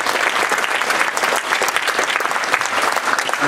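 Parents at a school event applaud the pupils, a dense, continuous burst of clapping from a crowd that stays loud and even throughout.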